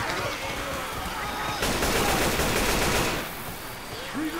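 Rapid automatic AK rifle fire in Left 4 Dead 2, a loud dense burst of shots lasting about a second and a half, set against continuous game ambience.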